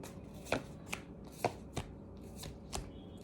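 Tarot cards shuffled by hand, a faint, close series of about six soft riffling slaps spaced unevenly over a quiet room background, with no speech.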